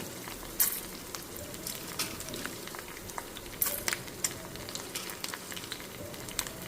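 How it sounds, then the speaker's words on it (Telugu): Green chillies, peanuts and chana dal fry in hot oil with a steady, faint crackling sizzle and scattered sharp pops, no talking. "పచ్చిమిరపకాయ పచ్చిమిరపకాయలు వేగుతున్నాయి అండ్ పల్లీలు కొన్ని పల్లీలు అయితే వేసాను అండ్ పచ్చి శనగపప్పు వేస్తాను"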